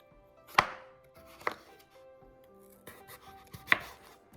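Knife chopping through the tough peel of an ash gourd (white pumpkin) on a board, three sharp close cuts spaced apart with quiet scraping between them, no talking.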